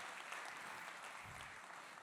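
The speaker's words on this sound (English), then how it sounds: "Give him a big round of applause." Dense applause from a crowd, steady clapping filling the whole stretch at an even level.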